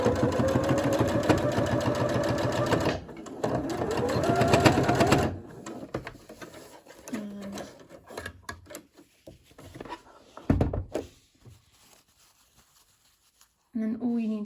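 Sewing machine stitching along the edge of fabric for a half-and-half scrunchie, a loud steady mechanical whirr for about five seconds that then stops, followed by quieter handling clicks and rustles.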